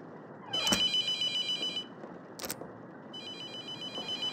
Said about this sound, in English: I don't want to answer your phone call.